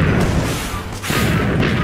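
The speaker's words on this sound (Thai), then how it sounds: "โอ้มันยิงปืนด้วยว่ะ" Gunfire from a hostile mob in a Minecraft lucky block game, heard as loud, booming, continuous blasts that fill the whole moment with only a brief dip in the middle.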